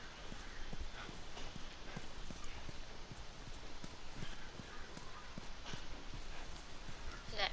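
A horse's hooves clip-clop steadily at a walking pace in The Last of Us Remastered video game, a close, even rhythm of hoof strikes over a soft background.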